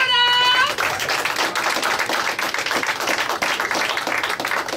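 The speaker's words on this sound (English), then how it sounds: "Please put your hands together, everyone, for the one, the only, John Perrotta!" Comedy club audience at Fody's Tavern in Derry, NH, bursting into loud, dense applause for a comedian being brought onstage, with a short whistle at the start and steady clapping throughout.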